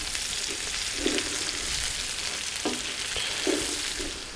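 Onions sizzle steadily in a camping pan over a grill, a continuous loud hiss with occasional scraping stirs, no talking.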